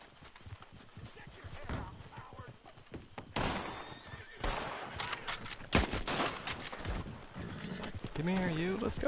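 Gunfire in the Western video game Red Dead Online, bursts of shots mixed with a horse whinnying and hooves clopping, busy layered game sound with a voice talking over it.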